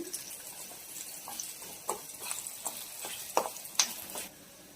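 Curry leaves crackle in hot oil in a Kerala kitchen while a sweet pickle is being made, giving a soft sizzle broken by scattered pops and spatters, with no one speaking.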